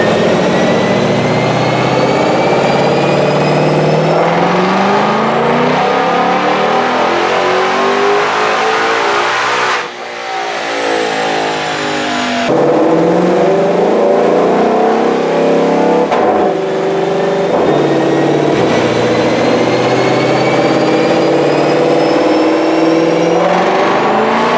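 A 2020 Ford GT500 on a dyno running a 93 octane tune revs hard and loud through repeated rising pulls, its engine note climbing in pitch, briefly dropping, then surging again.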